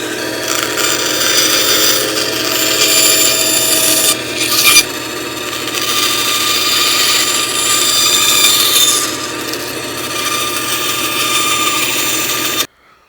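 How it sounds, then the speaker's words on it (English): A bandsaw hums continuously while cutting wooden cord wrap shapes, a steady close rasping drone with small shifts as the blade feeds through the wood, ending abruptly. "at the bandsaw here, I will cut out these ears along those patterns"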